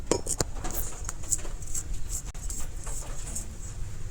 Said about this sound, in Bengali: এখন পেঁয়াজ রসুনটা ছোটো করে কাটিলিম। রসুনটা প্রথমে কাটিলিম